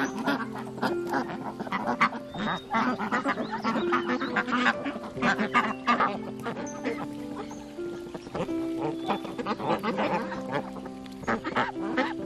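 Farm ducks quack repeatedly while eating, a close, busy run of nasal calls with some honking and faint talk in the background.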